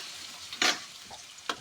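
Garlic goes into a pan already sautéing ginger and beef innards for papaitan, bringing a quick burst of sizzling and stirring followed by a shorter second sizzle, fairly soft and close.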